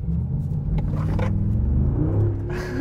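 A Mercedes G-Class engine rumbles low and steady, building in intensity as it accelerates hard. A faint whoosh comes near the end.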